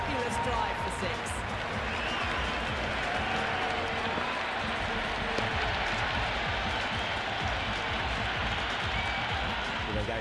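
Stadium crowd roars and applauds a six struck in the cricket video game Cricket 26, IPL match Rajasthan Royals versus Delhi Capitals; steady, dense cheering fills the whole stretch beneath continuous commentator talk.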